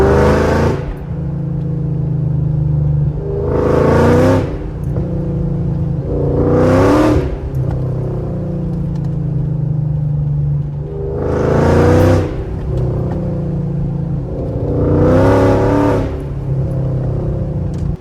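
A car exhaust with headers, an X pipe and a resonator but no muffler, droning loudly at a steady idle with five swelling revs spaced a few seconds apart.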